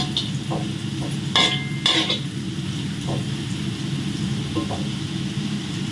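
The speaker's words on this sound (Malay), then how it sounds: "Ikan bilis pun kita goreng biar dia garing juga." Anchovies frying over slow heat in oil, a steady close crackle and sizzle with a few brighter utensil scrapes and stirs, no talk.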